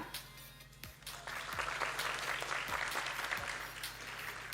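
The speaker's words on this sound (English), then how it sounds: "please give another warm round of applause" Warm applause at a university stage competition as the question master is welcomed, fairly quiet and distant, building after a second into steady clapping from a hall audience with a few low thumps.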